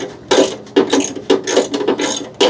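A hand ratchet loosens bolts during a mechanical teardown, a close, loud series of sharp clicking bursts in quick strokes separated by short pauses.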